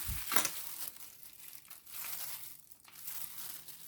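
A blade cuts through the dry base of a plant, giving close, crisp crunching and crackling that starts with a sharp snap and continues in rough, uneven bursts.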